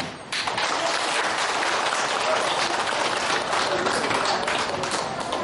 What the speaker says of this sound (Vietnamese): anh chị em vỗ tay thật là lớn để cảm ơn tất cả những người ân nhân